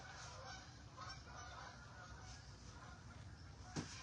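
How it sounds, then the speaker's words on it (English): A flock of geese honk repeatedly overhead, with overlapping calls that are faint and distant, set against steady background noise. "The geese are flying."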